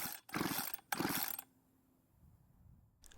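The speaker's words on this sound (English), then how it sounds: "I'm going to pull on the rope a couple of times" Two quick rasping pulls on the starter rope of a BlueMax chainsaw that won't start, each with a ratcheting mechanical whir, followed by near silence and the start of a third pull.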